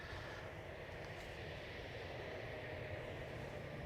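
Garuda Indonesia Boeing 777-300 airliner arriving from Jakarta after a nearly fifteen-hour flight, a faint, steady distant jet roar with broadband engine rumble throughout.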